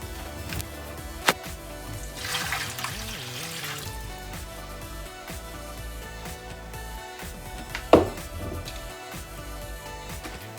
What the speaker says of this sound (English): Now I'm going to add 700 grams of water into the bowl with the yeast.